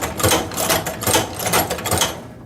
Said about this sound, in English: we'll set the presser foot back down and we'll continue sewing